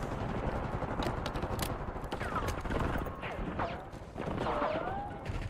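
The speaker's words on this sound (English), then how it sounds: "Bro, who was just shooting at me?" Video game gunfire: rapid bursts of shots and sharp impact cracks at fairly low level, scattered across a few seconds, with scraping movement and whistling effects between the bursts.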